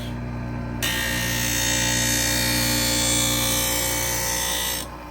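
A Wissota 911 sharpener set to a 1/2 inch hollow radius grinds a carbon steel skate blade in one steady pass, a close, loud, even grinding hiss that starts abruptly after a low motor hum and fades near the end.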